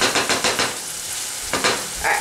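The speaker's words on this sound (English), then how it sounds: "Give this a stir." Ground beef being stirred in a hot pan, with a series of rhythmic scraping strokes over a soft sizzle, a pause, then a few more stirs close by.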